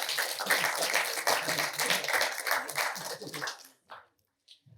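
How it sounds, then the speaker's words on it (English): Audience applause for parents at a junior project expo and award ceremony, dense enthusiastic clapping with some voices mixed in, tapering off and stopping, followed by a couple of stray claps. "May we please give a huge round of applause to the parents for their support."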